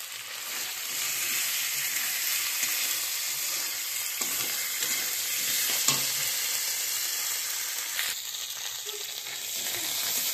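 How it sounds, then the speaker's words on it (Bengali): Spice paste frying in a pan, a dense, even sizzle with a few soft scrapes of stirring, close and steady throughout, with no one speaking. "মশলাটা কষা হয়ে গেছে"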